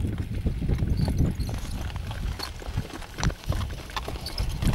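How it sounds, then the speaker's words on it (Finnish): A horse trots on a Finnish farm road heading home, hooves clip-clopping in a steady, fairly loud rhythm close by, with occasional irregular steps and faint background noise, no talk. "Siinä se hevonen kölökyttää nyt."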